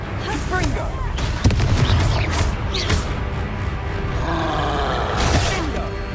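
In the Hogwarts Legacy video game, a Confringo spell blasts out as heavy booming explosions and crackling impacts layered over rumbling combat noise and character voices, loud and close.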